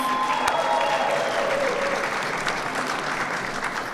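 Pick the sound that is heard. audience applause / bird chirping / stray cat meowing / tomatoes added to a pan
audience applause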